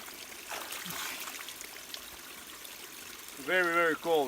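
A cold outdoor stream flows with a soft, continuous trickle and gurgle in the background, and a person starts talking over it near the end.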